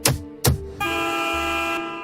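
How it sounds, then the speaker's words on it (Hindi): Two short honks of a car horn, followed by one long, steady blare held for over a second, loud and close. "मैंने गुस्से में स्टीयरिंग पर अपना हाथ मारा तो हॉर्न बज गया"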